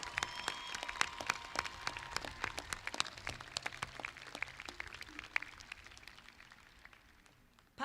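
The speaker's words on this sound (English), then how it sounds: "Let's give them and you a round of applause for a job well done in a very challenging time." Audience applause at the SUNY Potsdam 2022 commencement ceremony, a dense run of claps with sharp individual hands standing out, fairly faint and distant, thinning toward the end.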